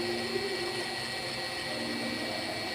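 A vacuum pump runs on an HVAC field piping line during charging, a steady, close mechanical whine and hum with constant tones and no breaks or talk.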